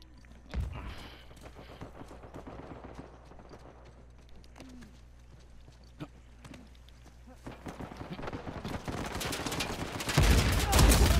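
Gunfire from the video game Uncharted 4 sounds as scattered sharp shots and bursts among footsteps and game noise, with the fire building louder and denser toward the end. A player talks over it.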